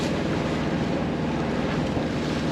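Wind at 15 knots, gusting to 18, blowing across a sailboat anchored between two reefs off Waikiki Beach, a loud, steady rushing roar buffeting the microphone with faint wave wash beneath.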